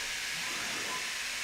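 An air compressor runs in a shop during work on an Arctic Cat 1000 H2, giving a steady, loud, broadband hiss with no breaks.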